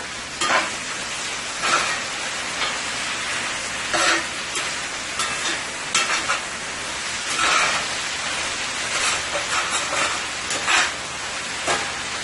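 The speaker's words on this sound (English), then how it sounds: "I'm going to let this fry for another 2 minutes" Marinated beef and vegetables frying in a pan with a little sesame oil, a steady loud sizzle with repeated stirring scrapes at an even rhythm, no talking.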